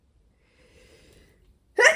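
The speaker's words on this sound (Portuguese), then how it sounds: "Oh, eu quero espirrar." A single sharp sneeze bursts out at the end, loud and close, after a stretch of near-silence with faint breathy rustle.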